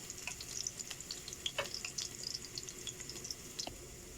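Chicken gizzard browns in a pan with garlic, giving a faint, steady sizzle with small scattered pops and crackles throughout and no talking.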